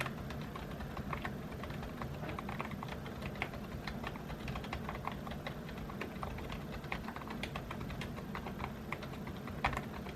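A quiet pink gaming keyboard is typed on in a rapid, continuous stream of soft, muffled keystrokes, with a faint low hum underneath.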